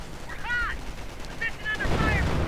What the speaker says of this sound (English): they come under fire from the MG42 and the Puma, taking heavy losses in the process